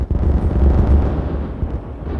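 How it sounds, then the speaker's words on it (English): Deep rumbling explosion blasts in the building game Timberborn, a heavy low boom that rolls on and fades over a couple of seconds. "it's time for some explosions"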